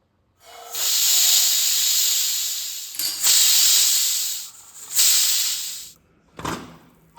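Loud steam hiss rushes from a pressure cooker holding biryani rice, in three long bursts with short breaks between them and a brief final puff, with no talking.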